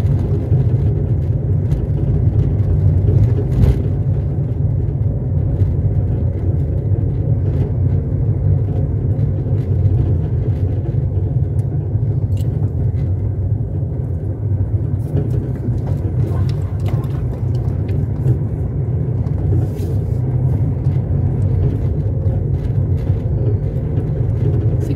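A car cruising along a seaside avenue toward Guriri beach in Espírito Santo, Brazil, with a steady low engine and road rumble heard from inside the cabin throughout.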